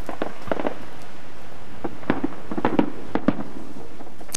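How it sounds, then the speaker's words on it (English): Fireworks burst in the night sky above the D-Day invasion beaches during an anniversary event, a series of distant cracks and thuds scattered irregularly across the clip with no voices. "as darkness fell last night, the skies above the invasion beaches were ablaze with fireworks"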